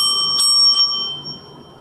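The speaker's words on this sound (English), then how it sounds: "The bell will be rung again at the end of 8 minutes" A bell rings once to mark timing at a student consulting case presentation, a bright metallic strike whose clear ringing tone lingers and slowly fades, heard alone.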